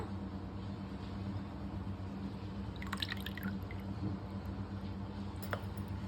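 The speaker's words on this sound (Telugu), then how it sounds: "ఇవి రాకుండా ఇలా వడకట్టుకోవాలండి, పిప్పి రాకుండా." Citrus juice for narinja pulihora is strained through a strainer, giving faint dripping and trickling over a steady background hum, with a couple of brief brighter splashes.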